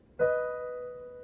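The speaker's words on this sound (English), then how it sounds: "If it were major, it would sound like this." Two keyboard notes struck together, forming a bright major third that rings clearly and slowly fades.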